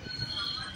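A MEMU express train runs along the track as it climbs toward a junction with the Hosur line, its steady rolling rumble carrying a thin high wheel squeal throughout the short moment.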